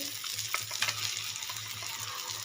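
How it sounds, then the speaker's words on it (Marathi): Ground paste of onion, garlic and coconut masala frying in oil for a sprouted moth bean usal, a dense steady sizzle with soft, repeated stirring scrapes close by, no voices. "छान हलवून घ्यायचं पुन्हा तेल सुटेस्तोपर्यंत मस्त हलवून परतून घ्यायचं आहे"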